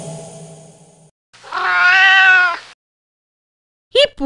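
A cat meows in a quiet indoor setting: one short call, then a longer drawn-out meow, and after a pause another brief cry, all close and clear.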